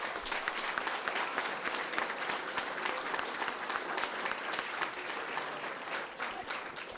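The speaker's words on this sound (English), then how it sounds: "Would you please join me in one more round of applause for our exceptional teachers this year?" An audience at a school district board of trustees meeting claps for teachers in a sustained, even round of applause, moderately distant and with no speech over it.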